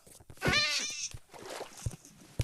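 A wild cat meows in the Minecraft video game, one drawn-out whiny call in the first second, followed by a few faint clicks and soft game noises.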